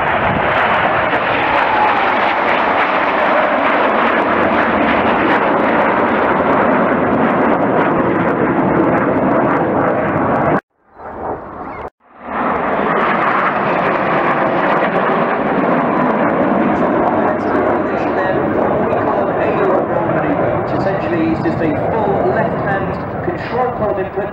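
Red Arrows jets rolling in formation at an air show at Waddington, a loud, steady roar of jet engines that cuts out briefly midway before returning, with a commentator talking over it.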